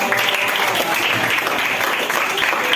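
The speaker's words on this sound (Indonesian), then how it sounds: "kasih tepuk tangan dong untuk teman-teman" A class of students claps for their classmates during a school lesson, a loud, steady wash of applause holding at an even level throughout with no talking over it.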